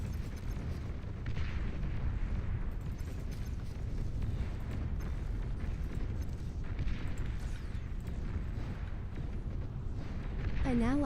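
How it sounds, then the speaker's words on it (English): A commander unit self-destructs in the real-time strategy game Beyond All Reason, a dense barrage of booming explosions and rumbling battle noise that runs throughout, with a voice speaking over it. "An allied commander self-destructed."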